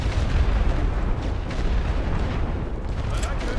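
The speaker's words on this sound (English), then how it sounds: "so I'm just gonna shell" Artillery shelling in the WWI game The Great War Western Front, a dense, continuous low rumble of distant booms and blasts rolling together, with a voice faintly present beneath.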